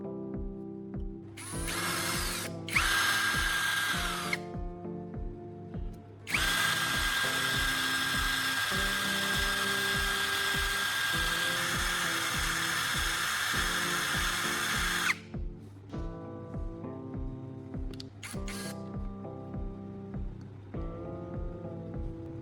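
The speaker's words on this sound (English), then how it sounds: "After that, we'll sharpen one end of the core to make it look and function like a proper welding tip." A power tool sharpens one end of a core from an old laptop charger into a welding tip, a loud whining drill-like grind in several bursts, with one long sustained run in the middle and mechanical clicks between bursts.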